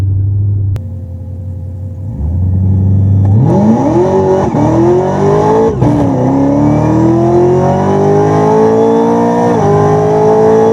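A drag race car launches in first gear with wheels not hooking, its engine rising from a low idle into a loud, climbing roar that wavers and stutters as the tires spin, very close.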